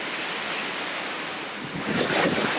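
Steady wind roars outdoors around a garage working on a 1969 Triumph GT6 Mk2 floor pan, a loud broadband rush buffeting the microphone and swelling near the end, with no talk.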